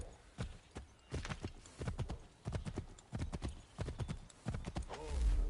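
Horse hooves clip-clop in a steady trotting rhythm in the video game Assassin's Creed III Remastered, close and fairly loud, speeding slightly toward the end.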